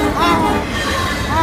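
A train rushes past through heavy snow, a loud continuous roar of wheels and rushing air, close by and sustained for the whole moment.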